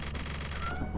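A cat meows loudly and close in the video game Lethal Company, one drawn-out, slightly harsh call that fills the moment with no talk over it.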